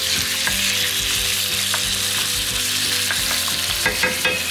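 Chicken stir-fries over high heat in a wok, giving a loud, constant close sizzle and crackle with repeated scraping and tossing, and no voices.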